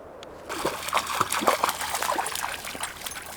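Feet swishing and splashing in cold creek water at a mountain campground, a run of close, irregular trickles and splatters that starts after a brief quiet moment.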